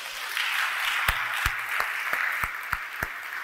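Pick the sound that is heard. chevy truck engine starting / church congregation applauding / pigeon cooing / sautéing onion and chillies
church congregation applauding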